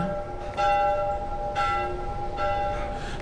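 Church bells toll in a snowy setting in The Last of Us, three clear strikes about a second apart, each ringing with a bright sustained tone that hangs over a quiet background.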